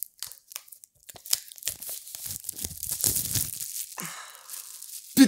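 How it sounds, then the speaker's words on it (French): Close crinkling and tearing of the plastic blister packaging around new AirPods, irregular crackles and rips that build over a few seconds, with a sigh and breathing nearby. "Est-ce qu'il y a un bruit de blister?"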